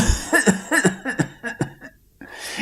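A storyteller imitates Santa Claus coughing, with a run of about six or seven rasping, throaty coughs in quick bursts close to the microphone, followed by a brief pause and then a short breathy sound.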